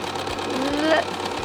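Sewing machine stitching half square triangles a quarter inch from a marked line, a steady close mechanical whir running throughout while a person talks over it.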